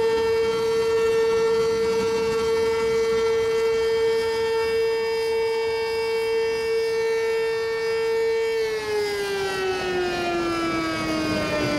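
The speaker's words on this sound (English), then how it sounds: "In Ackley, Iowa, they blow the tornado siren." A tornado siren in Ackley, Iowa, blows one loud, sustained tone with rich harmonics for about nine seconds, then its pitch begins sliding steadily downward as it winds down, heard alone without talk.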